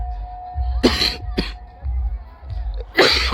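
A person who is unwell coughs close by in three sharp bursts spread over a few seconds, with low background noise between them.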